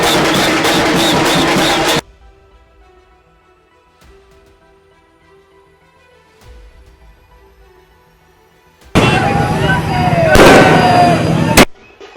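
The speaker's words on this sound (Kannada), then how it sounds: "ಹರ್ಷೋದ್ಗಾರಗಳೊಂದಿಗೆ ಪಟಾಕಿ ಸಿಡಿಸಿ ಕುಣಿದು ಕುಪ್ಪಳಿಸಿದ್ದಾರೆ" A rapid string of loud firecracker bangs crackles for two seconds, then near silence, then another loud burst of noisy crackling and commotion, at a street celebration of India's 2025 Champions Trophy win in Haryana.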